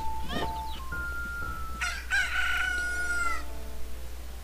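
Cuckoos from The Legend of Zelda: Majora's Mask crowing as they grow into adults, a loud rooster-like cock-a-doodle-doo with short clucks before it and one long drawn-out crow in the middle, with no talking.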